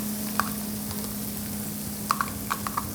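A spoon stirs mayonnaise into corn cheese in a pan just taken off the heat, giving a faint steady sizzle with a few soft scraping clicks near the end.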